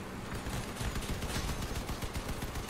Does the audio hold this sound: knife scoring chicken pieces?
no